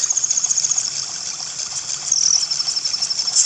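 Steady river water flowing and rushing in The Legend of Zelda: Ocarina of Time 3D, a continuous even wash with a faint high tonal whine over it, no voices.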